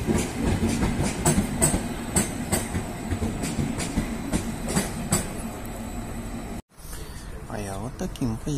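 An Intercity train rolls through a Vienna railway station, a continuous rumble with rhythmic wheel clicks and a rattling carriage noise for most of the stretch, then it cuts to quieter ambience where a voice speaks.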